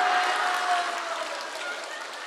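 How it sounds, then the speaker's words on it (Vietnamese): Applause from an audience at a Buddhist dharma talk, a steady, moderately loud wash of clapping lasting throughout, with no speech over it. "Rõ ràng vỗ tay là kích thích đó nghe quý vị."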